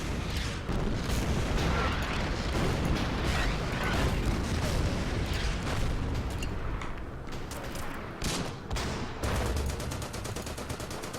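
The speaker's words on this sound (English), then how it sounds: "We'll just fire on them with the artillery." Wartime artillery and gunfire roll on without a break in the strategy game Order of Battle: Endsieg during the Novgorod battle, with booming impacts over a steady roar and a rapid rattling burst near the end.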